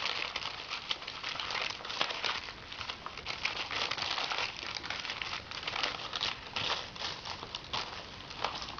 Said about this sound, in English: Normally I would have crunkled these up just a little bit more.